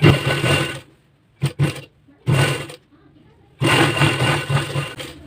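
Three bursts of a sewing machine stitching a blouse, close and fairly loud, with a brief double stutter and short quiet gaps between runs.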